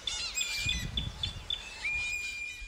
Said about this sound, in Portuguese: voaram para as árvores próximas, onde continuaram a chilrear e a cantar